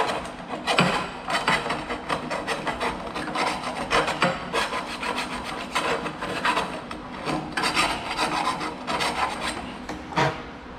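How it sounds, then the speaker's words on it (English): A hand file rasps back and forth across metal, knocking burrs off a junk lamp part, in close, uneven scraping strokes that repeat steadily with short pauses and no speech. "See if I can file that burrs off of there."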